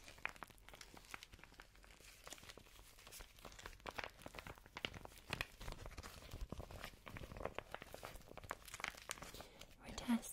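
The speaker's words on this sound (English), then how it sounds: "We now have this, which is a face mask full of plastic beads and balls." A face mask stuffed with plastic beads and balls is squeezed and handled up close, giving soft crinkling, rustling and crunchy rattles in irregular bursts at a quiet level, with a low voice speaking in places.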